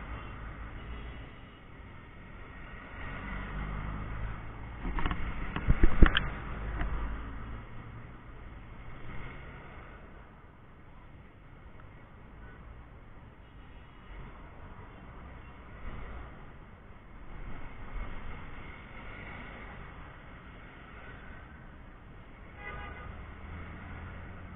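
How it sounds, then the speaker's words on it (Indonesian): Funeral convoy of cars for Ani Yudhoyono rolling past in Indonesia: a steady, muffled low traffic rumble, swelling briefly near the start as a vehicle passes close, then continuing evenly at moderate level with no voices. "Ini mobil rombongan semua."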